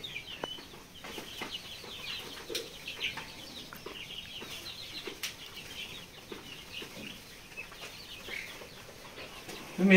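Chickens and a rooster of mixed breeds kept for sale cluck and flap their wings in a yard, with scattered calls near and far forming a steady, busy backdrop and no talk.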